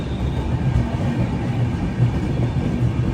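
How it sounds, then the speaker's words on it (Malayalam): Aronai Express pulling into Pakur railway station, a steady, loud low rumble of rolling rail cars with no pauses and no talk. "പാക്കൂർ റെയിൽവേ സ്റ്റേഷനിലേക്ക് ഇതാ ട്രെയിൻ എത്തിയിരിക്കുകയാണ്"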